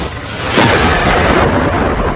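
An asteroid impact explosion sound effect: a loud, deep, rumbling boom that swells just after the start and rolls on as a dense roar for about two seconds.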